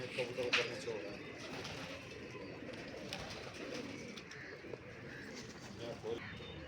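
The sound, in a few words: pigeon cooing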